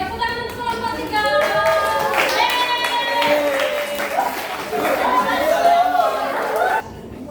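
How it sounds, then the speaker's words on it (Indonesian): A classroom of students claps and cheers for a student group after its presentation, a loud sustained round of applause mixed with lively chatter and excited voices that cuts off abruptly near the end. "Oke, tepuk tangan untuk kelompok"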